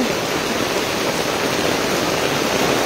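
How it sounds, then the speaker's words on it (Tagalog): Torrential typhoon rain roars in a dense, unbroken hiss, loud and close, with no voices over it. "Lakas ng ulan!"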